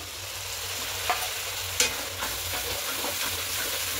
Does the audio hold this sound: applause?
no